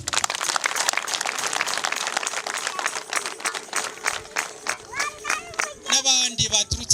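Crowd at a Kampanga parish welcome gathering claps in a dense, steady wash of applause, with high trilling ululation rising near the end over a murmuring crowd.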